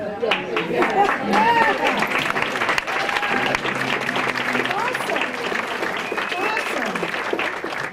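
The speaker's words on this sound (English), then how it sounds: "And you can clap each time." Guests clap at a volunteer recognition dinner, a steady wash of applause from a seated crowd while people call out and talk over it.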